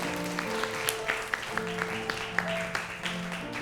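Worshippers at a Chinese church Sunday service clap in a steady rhythm along with sustained music, the claps sharp and evenly spaced over the tones.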